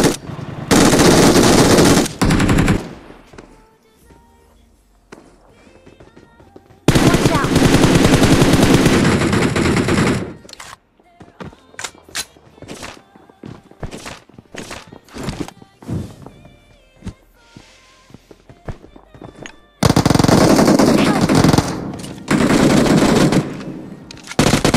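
Gunfire from a gun in a shooter video game: loud, sustained bursts of automatic fire broken by quieter stretches of scattered single shots and thuds.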